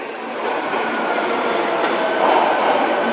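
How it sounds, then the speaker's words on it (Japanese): An Osaka Metro 1300 series local train bound for Ibaraki-shi pulls into Ebisucho station. A steady, close rumble of rolling rail cars grows slightly louder toward the end. "2番線に到着の電車は日本橋、境筋本町、天神橋筋6丁目方面、"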